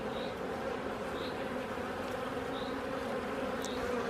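A dense, continuous hum of many honeybees buzzing close by in an open hive during a spring inspection, steady and low, with occasional individual bees whizzing past.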